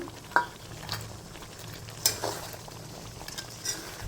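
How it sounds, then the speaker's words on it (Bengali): Prawn legs sautéed in a pan sizzle softly and steadily, with several sharp clinks and scrapes from stirring against the pan. "চিংড়ি মাছের পাগুলো আমি এবারে দিয়ে একটু কষিয়ে নেব"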